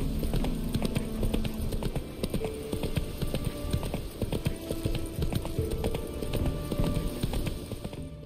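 Roach the horse trots in The Witcher 3, a steady, rhythmic clip-clop of hooves over a low background hum.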